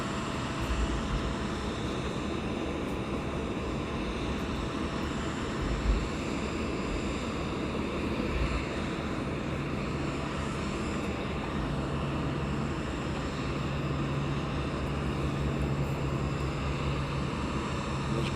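An aircraft arrives at East Midlands Airport with a steady, loud broadband engine roar and low rumble lasting throughout, distant and unbroken, with no speech.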